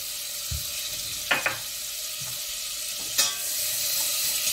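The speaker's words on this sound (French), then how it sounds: "je remets ma casserole sur le feu. Je vais y mettre le beurre" Butter sizzles in a hot saucepan on the stove at the start of a béchamel, a soft steady hiss broken by a few short clinks and scrapes.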